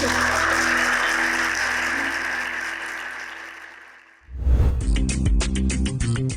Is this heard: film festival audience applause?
yes